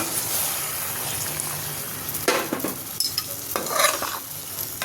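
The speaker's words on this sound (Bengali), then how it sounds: "শিঙি মাছের ফ্রাই প্যানটা ধুয়ে একটু পানি দিয়ে দিলাম" Taro and prawns are stirred in a frying pan with a little added water, a continuous soft sizzle broken by a few sharper scrapes and clatters of the spoon against the pan.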